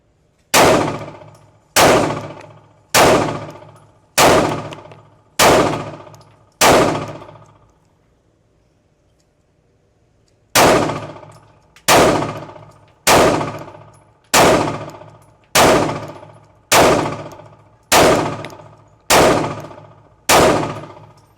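A new CZ pistol with a ported barrel fires at steel targets, each shot a sharp crack followed by a ringing metallic clang, six evenly paced shots, a pause of a few seconds, then nine more at the same steady rhythm.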